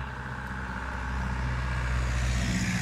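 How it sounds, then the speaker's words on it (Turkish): A car approaches on a village road, a low rumbling engine hum that grows steadily louder and closer over a few seconds, with no talking. "Araba geliyor, buraya gel."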